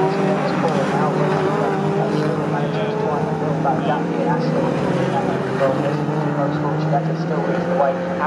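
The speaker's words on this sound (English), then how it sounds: "Porsche's up against BMW as they work their way down the back straight" Porsche and BMW race cars roar down the back straight at Snetterton, engines droning loud and sustained with shifting pitch, under a commentator's voice.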